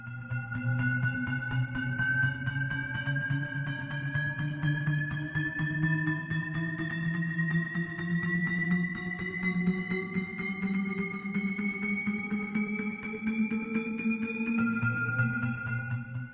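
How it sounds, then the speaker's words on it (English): A buzzy electronic tone sweeps steadily upward in pitch for many seconds, building tension, then briefly drops back near the end. "A riser is a tension and release device used in electronic music."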